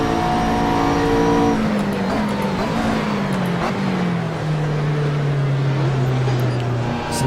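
Ginetta race car engines in Assetto Corsa, several cars running close together, engine tones rising and falling through gear changes with a steady loud drone throughout and no talking.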